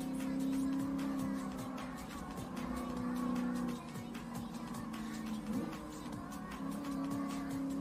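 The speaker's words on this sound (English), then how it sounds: "The engine sounds great, doesn't it?" A Mercedes 300 SEL AMG races in Gran Turismo Sport, its engine droning in a steady sustained tone that shifts pitch once midway, with faint tire noise and a clicking texture throughout.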